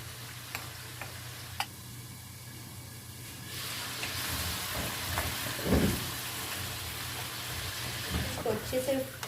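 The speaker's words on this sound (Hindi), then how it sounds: "अच्छे से भुना है, खूब भुना है।" Mutton karahi sizzling and frying in a pan, a soft continuous crackle with occasional stirring clinks and a low background hum.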